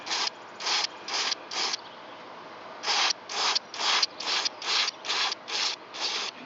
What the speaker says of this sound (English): Spray it real good, 10 or 15 times or even more.